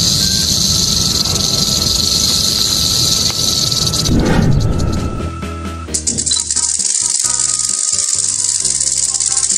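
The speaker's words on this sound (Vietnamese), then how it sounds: "Rattlesnake." A rattlesnake's rattle sounds as a steady, loud insect-like buzzing hiss that fills the first half, then gives way to broken clicking rattles toward the end.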